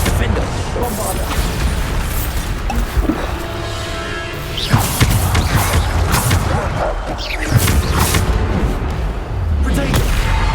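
Bombarda explosion spells in the Hogwarts Legacy video game, repeated booming blasts and crashes over a loud, dense combat soundscape with continuous game noise and voices shouting spell names.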